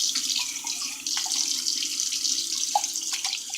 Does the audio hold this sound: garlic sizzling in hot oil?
no